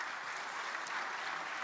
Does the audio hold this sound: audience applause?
yes